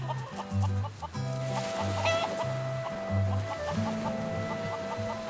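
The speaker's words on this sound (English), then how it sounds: "infestation of chickens." Several chickens cluck repeatedly close by in a steady, overlapping rhythm, with a few higher calls mixed in and no talking.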